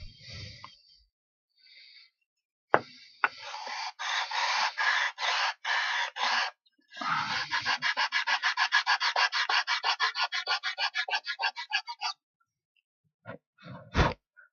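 Sheets of 120 grit sandpaper rasp across plywood on a model house, first in a few longer scrubbing passes, then in a fast, even run of short back-and-forth strokes, close and dry with no talking.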